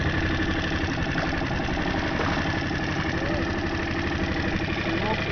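A motor engine running steadily at a constant idle-like pace, a continuous even drone with faint knocking texture, close and unchanging for the whole stretch.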